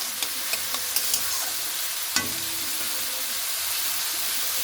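Potatoes frying in hot oil in a pan while being stirred, with a few sharp utensil clicks early on and a steady sizzling hiss throughout.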